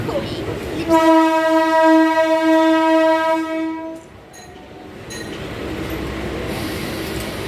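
A loud, sustained train horn blares for about three seconds nearby, then cuts off, leaving the low rumble and rattle of the train.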